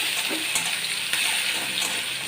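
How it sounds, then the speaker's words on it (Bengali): Continuous hissing sizzle of onions frying in hot oil until reddish and crisp, steady and close, with a few faint clinks of a utensil. "পেঁয়াজগুলো লাল লাল হয়ে ভাজা ভাজা হতে থাক"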